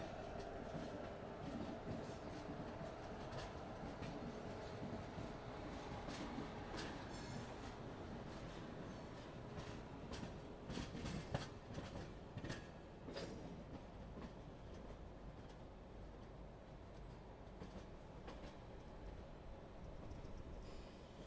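Tirumala Express rolling along rails near a hill-ringed station, a steady, loud rumble of wheels and clattering carriages with occasional squeals and clicks, running continuously with no talking.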